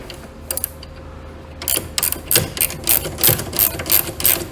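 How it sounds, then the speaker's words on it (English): Pliers tighten a fitting during a short-throw pedal install on a GBS Zero, giving a series of close metallic ratcheting clicks and scrapes in an irregular rhythm. "so I'm just going to tighten this up"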